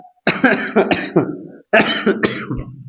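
A burst of harsh, raspy coughing, several rapid coughs in two fits with a short pause between, close to the listener.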